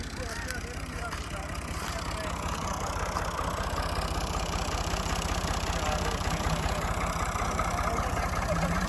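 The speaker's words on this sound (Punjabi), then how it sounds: "ਚਲੋ ਜੀ, ਟਰੈਕਟਰ ਚੱਲ ਰਿਹਾ ਹੈ" A tractor engine idles steadily up close, a low rhythmic chugging that holds constant throughout.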